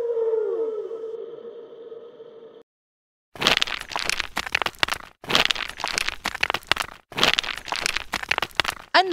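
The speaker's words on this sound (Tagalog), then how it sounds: "Tama, ito ay mga bato na nahuhulog. Sa Ingles, falling rocks." Falling rocks heard as repeated bursts of loud, broadband crashing and clattering in three or four rough waves, coming after a fading tonal whale-like call and a short silence.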